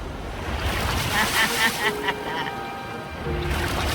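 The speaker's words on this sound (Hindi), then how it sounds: "वो लहरें काफी बड़ी लग रही हैं और वो हमारी तरफ ही आ रही हैं" Large ocean waves roll in toward an island shoreline, a steady broadband surf wash with wind noise, swelling louder in surges around the middle and again near the end, with water splashing against rocks.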